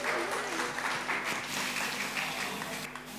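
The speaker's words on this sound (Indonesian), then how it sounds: "Tepuk tangan dulu dong." An audience at a Sunday school Bible quiz event for teens claps steadily for a few seconds, a dense, moderately distant wash of applause with faint voices mixed in.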